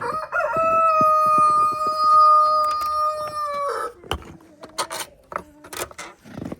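A rooster crows loudly in one long drawn-out call, followed by scattered clucks and soft scratching and clattering noises from nearby chickens out in snow, pecking at it.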